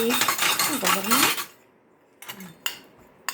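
Small metal bowls clatter and clink together as they are handled, a dense burst of ringing contacts followed by a quiet pause and a few sharp, isolated taps.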